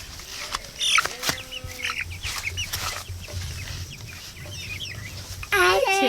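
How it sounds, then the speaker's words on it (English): Cornish Cross meat chickens about three and a half weeks old cluck and call close by in a farm pen, with steady low rumble and brief voices mixed in. "Look at how big that chicken is."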